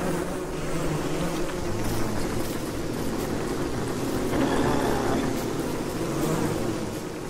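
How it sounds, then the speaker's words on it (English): Killer bees buzz in the video game Don't Starve, a steady, dense droning hum that holds at a constant loudness throughout, close and unbroken. "Get a bunch of killer bees out here."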